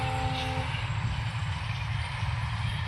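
A train rolls past with a deep, steady rumble and a faint metallic whine at the start.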